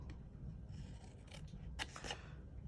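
Scissors snip through scored cardstock in a few quiet, separate cuts, with soft rasping paper sounds between them.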